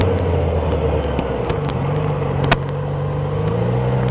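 A motorcycle accelerates through the gears on a riding test track, its close engine drone climbing in pitch with a shift partway through and a sharp click or knock along the way.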